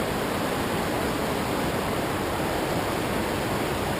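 A river swollen with spring snowmelt runoff roars in a steady, broad rushing wash, loud and unbroken, with no voices.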